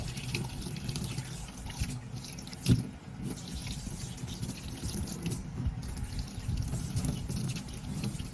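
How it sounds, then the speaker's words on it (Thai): Mackerel being rinsed clean of blood under running water, soft trickling and dripping with light splashes, one louder slosh midway, quiet and close. "ล้างทำความสะอาดนะคะ ล้างเลือดออกให้หมดนะคะ"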